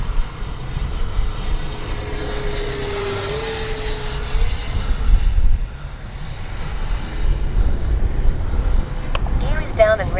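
Freewing 90mm J-10 RC model jet flying a speed trial: a steady turbine whine with a rising and falling pitch as it passes overhead, loud and continuous, with a sharp whistling change near the end.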